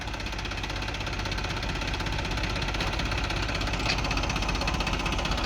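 A tractor engine runs steadily on a farm, a continuous loud mid-pitched rumble with constant vibration and no pauses.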